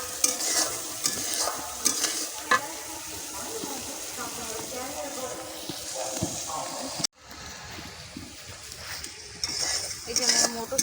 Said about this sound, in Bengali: তাহলে মশলার সঙ্গে এটা আমি একটু ভুনে নেব আপনার।